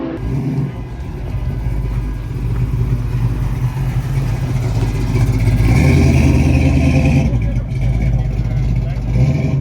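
Ford Mustangs from around Europe gather at a race track for a 24-hour Spa event. Their engines idle and rumble loudly and continuously, with some revving and a swelling pass midway. Voices are faintly present.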